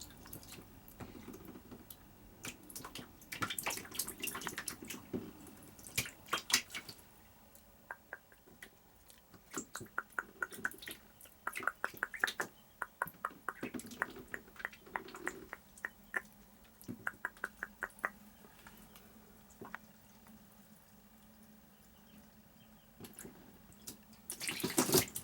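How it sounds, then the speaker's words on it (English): Little ducklings paddle and splash in water inside a shower, giving soft irregular drips, flicks and splashes that come close and quiet, with occasional brief bursts of busier splashing. "They keep splashing water on me, even though I'm sitting more than a foot back from the shower."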